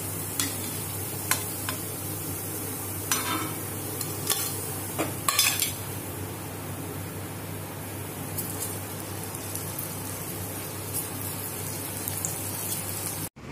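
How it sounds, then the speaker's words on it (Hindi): Aloo tikki patties fry on a pan until browned, with an even, continuous sizzling hiss up close, punctuated by small pops, ticks and a few scraping touches before it cuts off abruptly. "इन्हें इस तरह से सेक लेंगे ब्राउन होने तक और इसी तरह सभी टिकिया सेक लेंगे हम"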